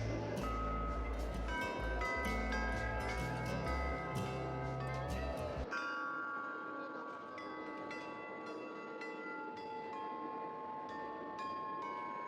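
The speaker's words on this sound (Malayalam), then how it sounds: "ജിങ്കിൾ ബെൽസ് പോലെ ഉണ്ടല്ലോ" Tinkling, jingle-bell-like chimes ring at a science city exhibit over a steady rumble that drops away midway, with bright repeated metallic tones continuing through the clip and no talk.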